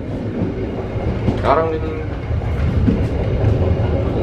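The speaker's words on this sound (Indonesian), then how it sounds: "Jadi kereta ini nggak bakal terlalu kenceng-kenceng banget kayak kereta-kereta yang lain." The KA Dharmawangsa passenger train runs on rails with a steady rumble and rattle heard from inside a carriage. A person talks briefly over the noise.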